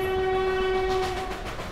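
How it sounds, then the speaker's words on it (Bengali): A train sound effect in a ghost story: a loud, sustained tonal horn over the rumble of moving railcars, fading slightly toward the end. "কিছুক্ষণ পর ট্রেনের শব্দ ধীরে ধীরে থেমে যাচ্ছে।"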